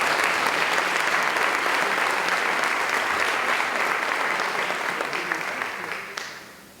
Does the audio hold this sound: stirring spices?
no